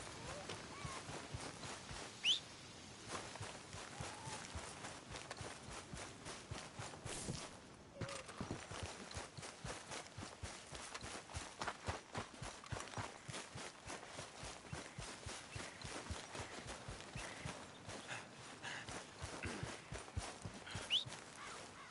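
Horse hooves clip-clop in a PS4 video game, a quick, continuous run of hoofbeats at a steady trotting pace, faint and even throughout with brief dips in the stride.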